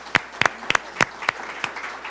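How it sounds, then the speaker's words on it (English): Sparse clapping follows a literary talk on Albert Camus and The Stranger, a handful of distinct, sharp hand claps spaced irregularly over a quiet room rather than a full crowd ovation. "Let's give her a round of applause."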